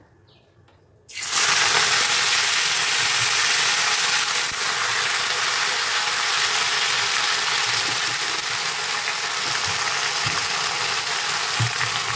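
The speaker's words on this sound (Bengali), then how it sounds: "জিরে ফোড়ন দিয়েছি, আর এবার শাকটা দিয়ে দেবো" Leafy greens dropped into hot oil tempered with cumin seeds in a Bengali home kitchen set off a sudden loud sizzle that settles into a steady, even hiss.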